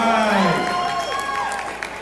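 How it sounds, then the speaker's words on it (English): An expo audience applauds the Fandesio Dance Group, a dense burst of clapping and cheering heard under an amplified voice at the start that fades as the applause continues. "Come on, give them a round of applause again."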